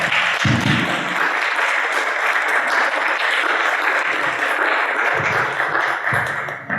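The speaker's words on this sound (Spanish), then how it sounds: "al doctor Carpallo, para quien pido un aplauso por su charla." Audience members applaud after a lecture on bookbindings, giving a steady, dense patter of clapping at moderate volume, with a few low bumps and taps near the microphone.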